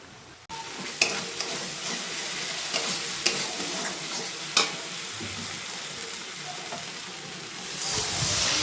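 Water poured into sizzling, frying spices for a rohu fish curry, giving a steady loud hiss with a few sharp clinks of a spoon stirring the pan, and the sizzle swelling toward the end.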